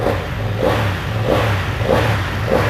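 Revving from a 2021 BMW F900R motorcycle with its original exhaust: repeated rhythmic throttle blips rising and falling about every half second, close and loud, with a steady low exhaust rumble and no voices.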